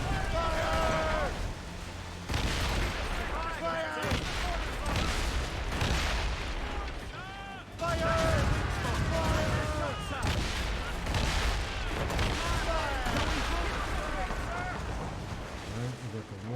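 Ship cannons firing during a naval battle in Assassin's Creed Rogue, with repeated booming volleys over rushing sea and game noise while voices shout and talk throughout.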